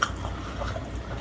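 A cheeseburger with pork brains and crunchy bugs is chewed up close, giving soft, wet, squishy mouth sounds with faint crunches throughout.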